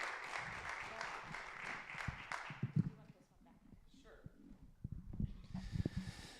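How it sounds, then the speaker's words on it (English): Applause for a guest named Kathleen from a live audience, a broad dense patter of clapping for the first couple of seconds, then thinning into scattered claps with murmuring voices and a brief renewed swell near the end. "Give Kathleen a round of applause"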